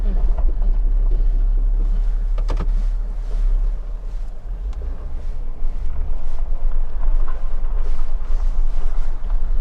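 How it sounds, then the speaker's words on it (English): A Jeep Wrangler rolls over gravel with a loud, continuous low rumble and roar of tyres and engine, plus a few crunchy bursts from the stones, with no talk over it. "Just going through this gravel is so much fun for me."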